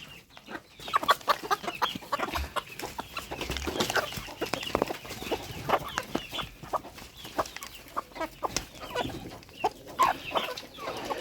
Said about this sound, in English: the chicken is actually swinging into action before I can even put it in the feeder